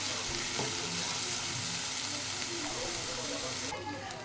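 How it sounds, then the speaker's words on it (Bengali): Ginger-garlic paste fries with onions in a pan for an aloo rajma dish, giving a steady, fairly quiet sizzle with occasional light stirring scrapes throughout. "আবারও 2 থেকে 3 মিনিট আমি এই আদা রসুনটা ভেজে নেব পেঁয়াজের সাথে ভালো করে"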